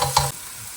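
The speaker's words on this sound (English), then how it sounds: "let's allow this to fry for like 2 to 3 minutes" Ingredients sizzle and fry in a pan for Chicken Chettinad gravy, a brief close burst of stirring and steady hiss.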